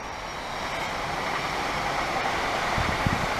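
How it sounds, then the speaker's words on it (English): A steady, broad rumble with a hissing roar holds at a constant level throughout, like a train rolling past nearby; no voices. "It's a train, as if you didn't know."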